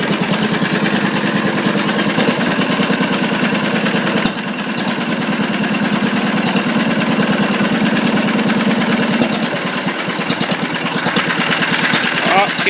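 An old engine idles with a steady mid-pitched rumble after its fuel is shut off and it is left to starve. Someone talks over the running engine, which stays close and continuous throughout.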